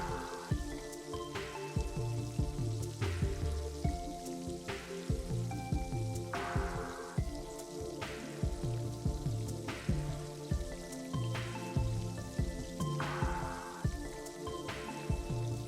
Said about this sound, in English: That sizzling sound is what you want to hear.